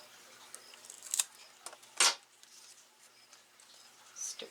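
Pruning snips cut a Philodendron mexicanum stem, giving a couple of short, crisp snips among quiet rustling and handling noises, close up, with no talking.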